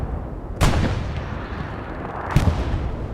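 Artillery shells land in the video game Hell Let Loose on Omaha Beach, two sharp loud booms about two seconds apart over a low rumbling battlefield din.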